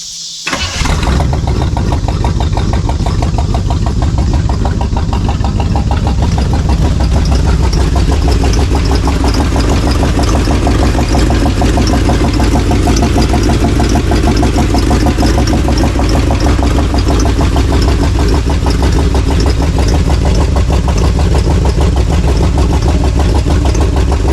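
A long-abandoned K20 pickup truck engine cranks and catches, then settles into a loud, steady idle close by that rumbles on without a break for over twenty seconds.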